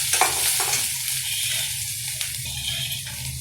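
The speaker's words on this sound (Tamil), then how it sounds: "எல்லாம் ஆட் பண்ணி நல்லா ஒரு வதக்கி விட்டுக்கோங்க" Onion, garlic and green chilli sizzle steadily in a hot pan while being stirred, with occasional scraping clicks from the utensil; a continuous close frying hiss with no voices.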